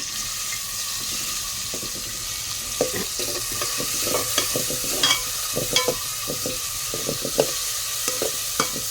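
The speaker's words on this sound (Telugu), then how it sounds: "పచ్చిరొయ్యలో కొద్దిగా ఉప్పు కారం పసుపు కొద్దిగా చికెన్ మసాలా వేసి ముందుగా ఫ్రై చేస్తున్నాను" Raw prawns coated with salt, chili powder, turmeric and chicken masala fry in a pan, a steady close sizzle with repeated spatula stirs and scrapes tapping through it.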